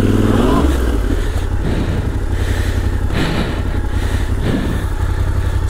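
A Yamaha Tenere 700 motorcycle engine loud and close as the bike loses momentum, a steady mid-pitched drone with a few swells and dips in revs, no speech over it.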